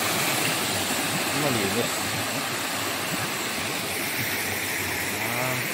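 Small waterfall along a rocky, slippery stream at a nature spot, giving a steady broadband rush of falling water that continues throughout while people talk nearby.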